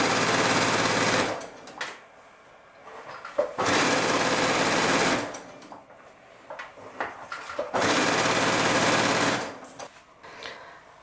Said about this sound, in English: So we're back to the sewing machine now.